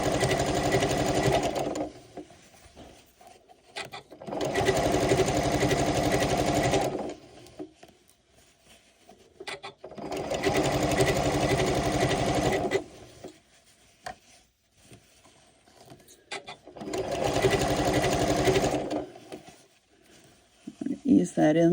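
Janome sewing machine running a blind hem stitch with a G foot, four steady whirring bursts of rapid needle rattle separated by quiet pauses, close and fairly loud.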